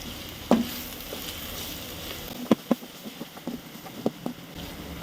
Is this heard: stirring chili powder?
yes